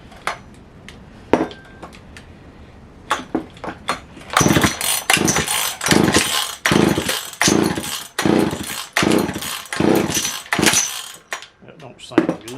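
Vintage McCulloch chainsaw, rebuilt with new rings and seals, coughs through a few short pull attempts, then fires and runs in loud, uneven bursts of revving close by, with occasional clinks and rattles.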